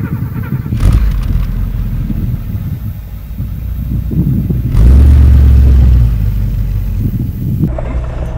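A 1969 Mercedes 300 SEL 6.3 with its 6.3-litre engine gives a steady deep rumble that swells into one louder, heavier rev surge midway before settling back to idle.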